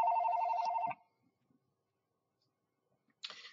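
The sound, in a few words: mobile phone ringing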